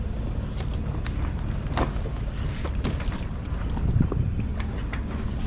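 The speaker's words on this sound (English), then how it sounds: "There are boats everywhere." Busy anchorage at Peel Island crowded with boats: a steady wash of water and wind noise with faint knocks and scattered clicks, close to the microphone and unbroken, with no talking.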